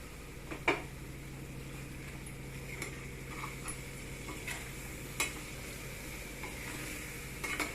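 Raw banana pieces stirred into a cooked, oil-glossed masala as it fries in a pan: a steady low sizzle runs throughout, broken by a few sharp spoon-against-pan clicks and scrapes.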